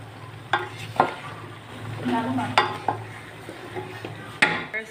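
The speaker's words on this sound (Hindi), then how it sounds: "ये आलू डाल दिए हैं हम लोगों ने और अब इसकी भुनाई करके इसको कवर करके रख देंगे" Potatoes and mixed vegetables stir-fried in a pan with masala, heard as a continuous sizzle under repeated spatula scrapes and clinks against the metal, close and fairly loud.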